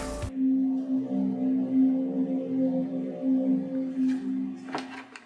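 A soft electronic startup tone from an Amazon Echo Show 5 smart display sustains warmly for several seconds, with faint clicks and handling taps near the end.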